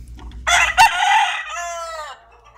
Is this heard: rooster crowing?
yes